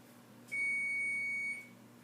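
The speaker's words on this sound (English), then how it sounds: "You can hear the oven going off just in the background, letting us know that it's ready." An oven gives one steady electronic beep of about a second to signal it has finished preheating. It sits faint in the background of a kitchen where French bread loaves are being prepared.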